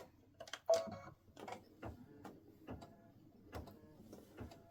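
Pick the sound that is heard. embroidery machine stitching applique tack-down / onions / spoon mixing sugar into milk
embroidery machine stitching applique tack-down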